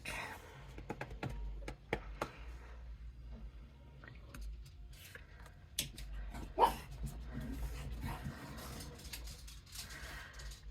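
Several dogs bark and whimper in scattered bursts through a quiet indoor space, with faint clicking like keys in between.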